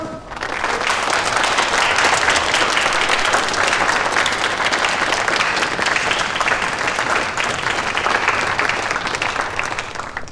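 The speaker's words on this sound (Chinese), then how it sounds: "来大家鼓掌。" A crowd of villagers applauds loudly and steadily as a county official arrives at a public gathering, the clapping dense and sustained throughout with no talk over it.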